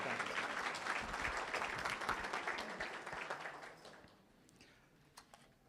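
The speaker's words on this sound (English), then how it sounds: "let's give Toner a round of applause" Audience applause at a Hurricane Harvey flood recovery meeting, a dense burst of clapping that holds steady for about four seconds, then thins to a few scattered claps as it dies away.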